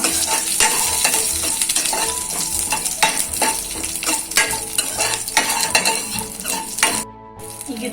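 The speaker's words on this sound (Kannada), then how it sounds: "ಇದನ್ನು ಒಮ್ಮೆ ಹೀಗೆ ಫ್ರೈ ಮಾಡ್ತೇನೆ." Chopped garlic, green chilli and ginger fry in a pan with a loud, close sizzle while a spatula stirs and scrapes repeatedly against the metal, briefly pausing near the end.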